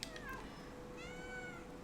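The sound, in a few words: cat meowing in the video game Stray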